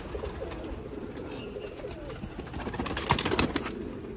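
Pigeons, high-flying breed birds, coo softly and steadily against a bed of background noise, with a brief louder rustle or flutter near the end.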